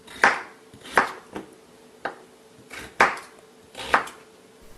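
Potatoes are cut into small pieces with a knife on a board for Korean potato pancakes, five or six crisp, evenly spaced chops ringing out close and clear in a quiet kitchen.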